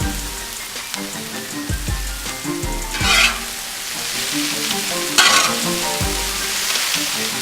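Potatoes and vegetables heating in a pan make a steady, close sizzle, broken by repeated clacks and thuds of a utensil stirring and two louder bursts of hissing spatter.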